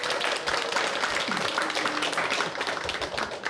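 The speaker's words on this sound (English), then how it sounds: "One more round of applause." An audience applauds at a 2022 state quiz bowl championship awards ceremony, a steady, dense wash of clapping that holds at an even level for the whole stretch.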